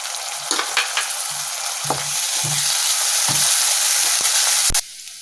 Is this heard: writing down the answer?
no